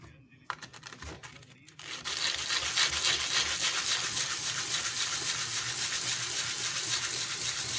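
Rough scraping of coarse sandpaper on wood, fast continuous back-and-forth strokes after a few brief handling noises at the start.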